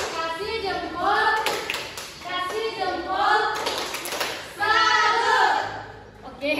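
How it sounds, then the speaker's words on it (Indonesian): A class of children claps hands in rhythmic bursts of patterned clapping between a teacher's voice and kids' chatter, loud and close in a classroom. "tepuk tangan untuk kita semua"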